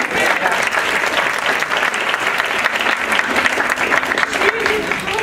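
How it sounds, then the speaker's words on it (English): At a dramatic reading competition, an audience gives Professor Hutchins a loud, sustained round of applause, dense clapping that carries evenly from start to finish. "round of applause, everybody"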